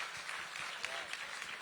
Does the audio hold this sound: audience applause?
yes